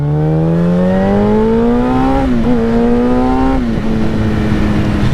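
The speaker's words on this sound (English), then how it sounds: "Oh, I love this bike so much. It just zooms." A Yamaha FZ1 motorcycle fitted with a Two Bros exhaust rides fast on back roads, its loud engine note climbing steadily through the gears, then dipping and rising again as it shifts, close and continuous with no talk.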